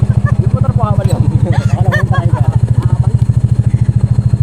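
A habal-habal motorcycle taxi engine idles close by with a steady, rapid low thumping pulse, while people talk over it throughout.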